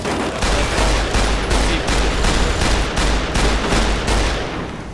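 A powerful gun firing repeatedly in Fallout New Vegas, about eight loud booming shots in a fairly even rhythm, each with a short rumbling tail, close and unobstructed.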